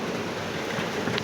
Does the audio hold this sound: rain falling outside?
yes